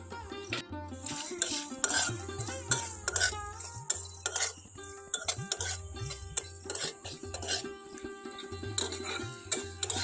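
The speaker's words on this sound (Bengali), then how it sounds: "দিয়ে আবারও ভালো করে ভেজে নেবো" A spoon scrapes and clinks against a pan in repeated stirring strokes, with light sizzling beneath the irregular metallic knocks as spices and ground ginger fry.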